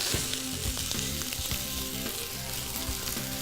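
Onions softening in a hot pan for vegetable tacos sizzle loudly and steadily up close, with a few scraping stirs and no talking.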